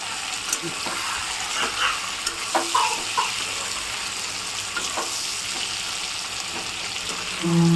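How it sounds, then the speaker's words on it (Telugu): Stuffed bitter gourd fry is stirred gently in a hot pan, giving a continuous close sizzle broken by soft scraping and tapping of the spoon, with no one speaking. "ఒకసారి తీసి కలుపుకుందాం మనం మెల్లె కలుపుకుందాము"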